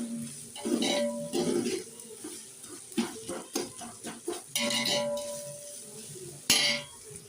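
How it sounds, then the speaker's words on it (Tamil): Chicken pulao sautéing with salt in a pan on the stove, with irregular stirring scrapes and clinks of a utensil against the metal over a soft sizzle, close and moderately loud. "உப்பு போட்டு நல்லா வதக்குவோம்"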